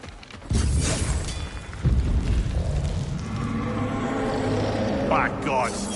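A deep rumbling tremor and explosion in God of War Ragnarök, set in Vanaheim, hits as two heavy booming impacts followed by a sustained low rumble, with a brief voice near the end.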